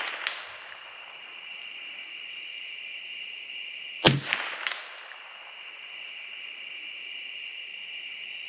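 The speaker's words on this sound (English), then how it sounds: "I think I'll ring the steel here a little bit, see if I can scare them off though." A single sharp .22 LR rifle shot cracks out at a shooting range, followed by brief ringing off a steel target, over a quiet background hiss.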